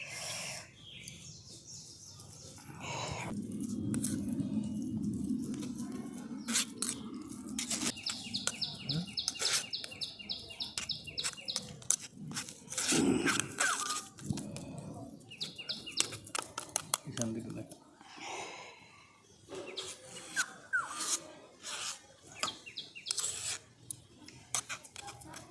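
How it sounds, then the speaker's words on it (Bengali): Four peeled potatoes scraped across a small grater, a run of rhythmic rasping strokes up close, with a person talking at intervals and birds chirping in the background. "এইভাবে এই চারটে আলুকে আমি এইভাবে গ্রেট করে নিচ্ছি"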